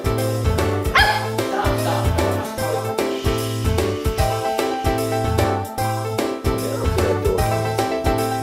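A small Chihuahua barks and yips repeatedly, close and loud, in a steady run of sharp barks over a busy tonal background.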